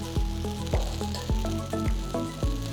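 A chickpea adai fries in ghee on a hot pan over a medium-high flame, making a steady close sizzle that pulses in a regular rhythm, with no talking.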